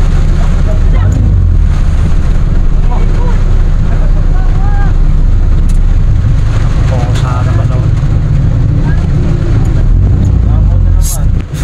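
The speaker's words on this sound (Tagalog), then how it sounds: "Lakas ng hangin, oh." Heavy, continuous wind roars into the microphone as a loud broadband rumble during a storm with heavy rain and flooding in Lemery, Batangas, with voices talking over it throughout.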